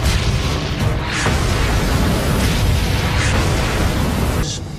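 A tank shell strikes an enemy tank in combat, a sustained, dense roar of blast and rumble filling the whole span, loud and close, with a few sharper bursts cutting through before it eases off at the end.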